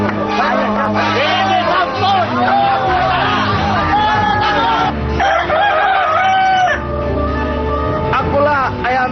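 A rooster crows loudly in a film scene set near a forest home, with repeated calls over a busy background of crowd chatter and other voices.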